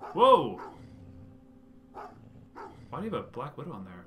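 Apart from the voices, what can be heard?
dog barking in the video game Goosebumps: The Game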